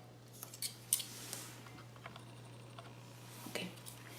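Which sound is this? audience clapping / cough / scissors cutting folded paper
scissors cutting folded paper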